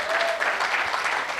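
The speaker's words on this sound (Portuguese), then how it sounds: "Pode aplaudir a Jesus." A church congregation applauds, making a short, steady burst of many hands clapping together in a reverberant room, with no talking over it.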